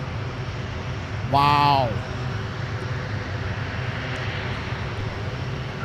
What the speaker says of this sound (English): we're going to get a C-130 taxi here